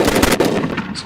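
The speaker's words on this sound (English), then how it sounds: "Gunshots." A quick burst of gunshots fires in rapid succession, loud and close, with sharp repeated cracks over about a second before fading.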